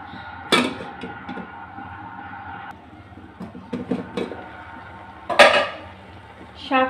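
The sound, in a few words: stirring and turning red amaranth greens in a pan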